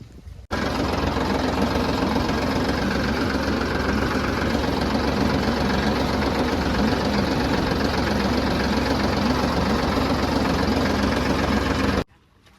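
A heavy engine idles steadily in a low, even rumble close by, running unbroken for several seconds before cutting out.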